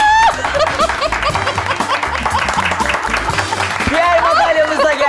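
Studio audience applause for the winners of a Turkish cooking competition show, steady clapping mixed with chuckles and scattered laughter, with a host talking over it.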